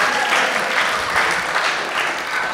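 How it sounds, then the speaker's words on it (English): Steady applause from a stand-up comedy audience fills the room, a dense, even clatter of many hands with no break across the stretch. "Y'all ain't got to clap."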